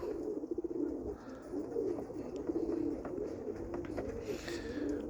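Roller pigeons coo steadily in low, rolling murmurs, several birds close by, with a constant outdoor hiss beneath.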